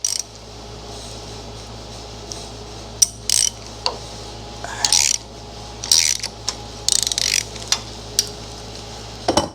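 A crank sprocket is tapped and seated onto the crankshaft of a 1978 Corvette engine during a roller cam and timing set installation, with a series of sharp metallic clanks and bursts over a steady low hum.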